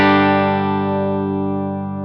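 An electric guitar chord is struck once and left to ring with the compressor pedal bypassed, a bright, full chord that slowly fades over two seconds, with no other sound.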